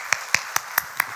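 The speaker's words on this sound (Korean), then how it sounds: "박수로 격려와 감사를 전합니다" Congregation in church claps in a slow, even rhythm, five distinct claps close by in just over a second.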